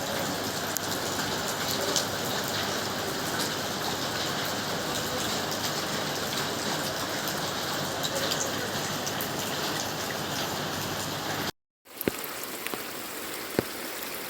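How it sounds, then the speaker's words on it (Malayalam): Monsoon rain falls without pause over a flooded bypass road in the Kavanoor area, a steady close hiss of drops that briefly cuts out near the end, then returns with a few sharper splashes. "മഴ പെയ്തുകൊണ്ടിരിക്കുന്നുണ്ട്, നിന്നിട്ടില്ല."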